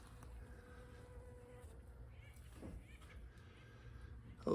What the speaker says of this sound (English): The bees are hard at work this morning.